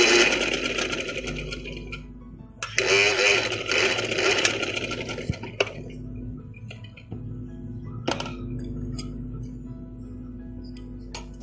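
Sewing machine stitching trim along the back neckline of a ladies' kameez, a close mechanical whirring run in bursts with brief pauses and light ticking clicks between them.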